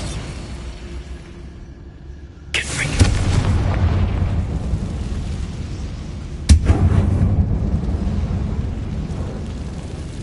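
Bombarda spell blasts inside an abandoned, closed-off mine in Hogwarts Legacy, two sudden booming explosions about four seconds apart, each followed by a loud rumbling roar that lingers over a low background drone.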